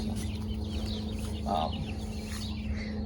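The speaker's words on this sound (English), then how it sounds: "the chicks are out here inspecting to see who's who and what's what" Chickens and young chicks, among them blue Cochins, cluck and chirp together in an outdoor flock, a steady mix of nearby clucks and peeps with no voices.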